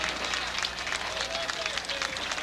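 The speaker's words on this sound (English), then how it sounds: "a great round of applause from the crowd here at Leda Lanes" A crowd applauds at a candlepin bowling alley, dense rapid clapping throughout while a commentator talks over it.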